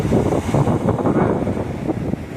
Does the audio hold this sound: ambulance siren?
no